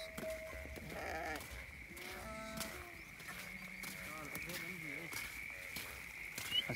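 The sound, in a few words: sheep bleating in a flock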